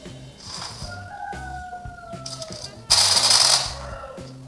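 Gunfire in a mobile shooter game played on an Itel P55 5G phone: several bursts of shots crackle, the loudest near the end, over steady game music and effects.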